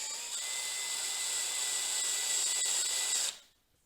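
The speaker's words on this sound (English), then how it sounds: "I put this on the low speed setting and at a lower torque because you don't want to strip any bolts or crack any wood." A power drill on a low speed setting drives bolts into a wooden Bilauf Woodworks Chipmunk Rock Pikler climber, giving a steady, close whine for about three seconds before it cuts off into quiet.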